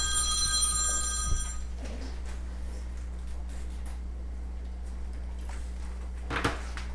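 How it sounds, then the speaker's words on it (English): A home telephone rings with a bright, bell-like electronic trill for about a second and a half, loud and close in a kitchen, then falls silent before soft household clatter follows. "Oh, now my phone's going to ring."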